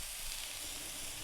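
Bacon cheeseburger patty sizzling steadily on a 28-inch Blackstone griddle as it is smashed flat with a small pot, a continuous close hiss and crackle of frying with no voices.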